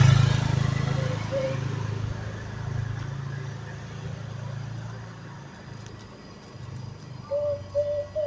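A motorcycle passing on a street, a low engine drone that rises and fades under children's and adults' talk, with birds chirping faintly in the background.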